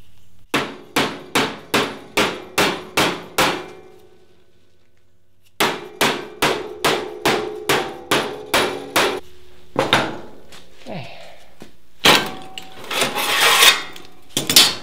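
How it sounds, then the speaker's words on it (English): Rapid metallic hammer blows creasing sheet metal for a car center console ring out in two steady bursts of about a dozen strikes each, loud and close, then scattered clanks and scraping. "I just need to crease it with the hammer."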